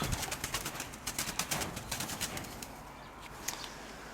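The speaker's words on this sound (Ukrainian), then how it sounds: "Це голубок." A pigeon's rapid wing flapping in quick bursts, close by, followed by quieter shuffling and a soft cooing call near the end.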